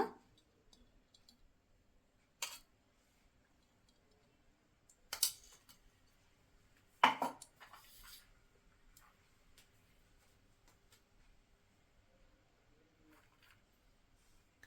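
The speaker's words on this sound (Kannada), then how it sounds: "ಸ್ಟವ್ ಮೇಲೆ ಬಾಣಲಿ ಇಟ್ಟಿದ್ದೀನಿ, ಸ್ಟವ್ ಹಚ್ಕೊಳ್ಳೋಣ." A gas stove with a pan on it being lit, a few sharp, separate igniter clicks spaced seconds apart in an otherwise quiet kitchen.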